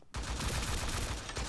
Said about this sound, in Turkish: Kim vuruyor?